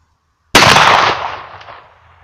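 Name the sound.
12-gauge shotgun shot, lower barrel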